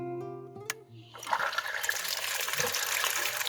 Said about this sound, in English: You can see there's hardly any water.